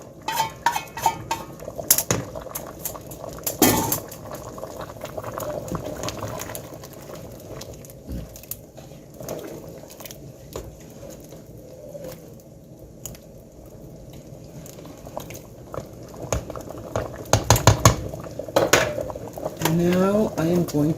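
Thickener stirred into a simmering pot of rabbit stew, with scattered clinks of a spoon against the pot and soft wet stirring sounds that grow busier toward the end, close up.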